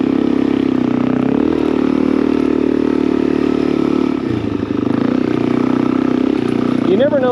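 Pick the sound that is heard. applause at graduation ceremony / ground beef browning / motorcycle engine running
motorcycle engine running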